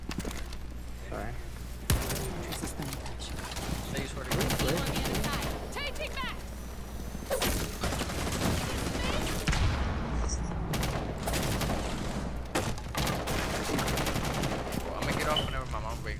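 Gunfire in Rainbow Six Siege arrives in repeated sharp bursts and rapid volleys, loud and close, with a sudden crack early on and voices talking over the shooting.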